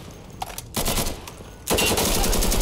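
Automatic AK-74 rifle fire in the video game Insurgency, a dense rattling burst that breaks off briefly and then resumes loudly, with a few faint shots before it.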